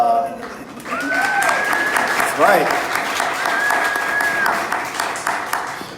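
A crowd applauds steadily for several seconds at a public education forum in Jackson, loud and sustained, with a speaker's voice and some whistles heard over the clapping.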